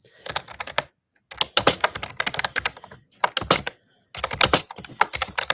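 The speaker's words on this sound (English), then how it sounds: "I'm using a different keyboard and I don't remember what the keys are." Fingers type on an unfamiliar computer keyboard in close, crisp bursts of rapid keystrokes, separated by brief silent pauses, with no talking.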